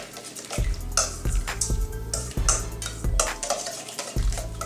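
Chopped red onion being mixed into a citrus-orange dressing for watermelon salad, with repeated close clinks and scrapes of a utensil against a bowl in an uneven rhythm, no talking.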